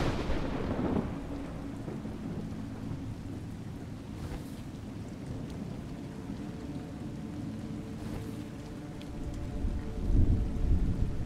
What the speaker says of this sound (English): You seem surprised that rain comes from the heavens.